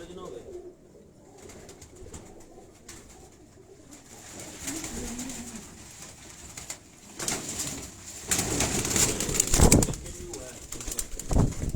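Pigeons coo softly in the foreground while rustling and louder bursts of noise build toward the end, with a person talking at times.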